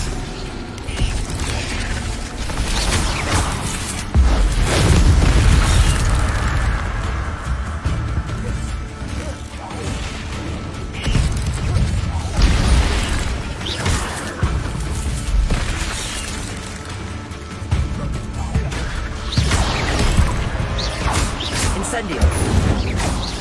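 Spells crash and boom in Hogwarts Legacy combat, loud bursts and whooshing impacts recurring through the stretch alongside game music and effects, with a voice calling out spells.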